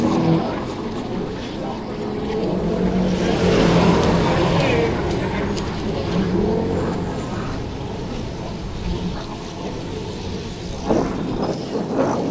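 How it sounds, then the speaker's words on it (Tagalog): Road traffic on a fixed-gear bike ride, with cars and larger vehicles rumbling past nearby in swelling passes under wind noise, with a voice speaking briefly. "Traffic!"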